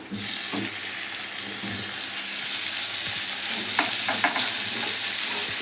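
Onions with ginger garlic paste sautéing in a pan for vada curry, giving a steady close sizzle with occasional spatula knocks, and a small cluster of clicks near the end.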